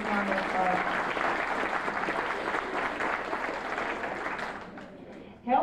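A room of people applauds at a Southwestern Bell 25th service anniversary gathering, steady clapping for about five seconds that tapers off just before a voice resumes.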